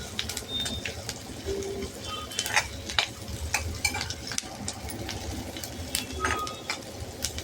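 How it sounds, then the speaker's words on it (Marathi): Sliced onion sautéed in oil while being stirred, a soft steady sizzle broken by scraping stirs, with birds cooing faintly in the background and no talk. "असंच तेलात छान परतवलं की मग तो छान शिजतो आणि चविष्ट लागतो."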